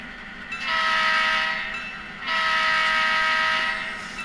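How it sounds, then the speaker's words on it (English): A model train fitted with a Tsunami2/Blunami sound decoder pulls out of the yard and sounds two long horn blasts, each steady and clear over a low background hum, with a short gap between them. "So now we're going to go ahead and pull out of the yard."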